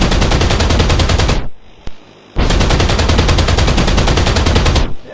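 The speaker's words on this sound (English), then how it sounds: "So first off, we've got the main autocannon." Main autocannon on a Sherman hull build in the Roblox game Plane Crazy fires loud, continuous rapid bursts, cutting out briefly before resuming and stopping again near the end.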